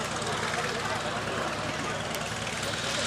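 A P-40 Kittyhawk warplane makes a flying pass at an airshow, its propeller engine droning steadily at a distance under a commentator's voice.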